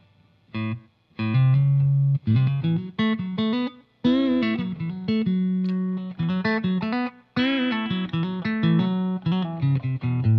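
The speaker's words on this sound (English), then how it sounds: "And I've also got a slapback sound." Electric guitar run through a pedalboard slapback delay into a Mesa amp, busy picked riffs and chords with a short single echo doubling each note, played continuously with brief pauses between phrases.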